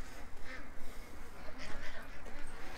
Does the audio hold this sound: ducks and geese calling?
yes